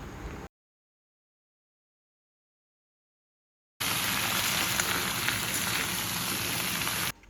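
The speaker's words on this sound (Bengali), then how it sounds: "রসুন হালকা একটু ভেজে নিয়ে তারপর আমি কেটে রাখা সব সবজিগুলো দিয়ে দেবো।" Garlic and chopped vegetables sizzle in a pan, a dense, steady hiss and crackle heard up close. It comes in a short burst, then stops for several seconds of silence before returning and continuing alone without any voices.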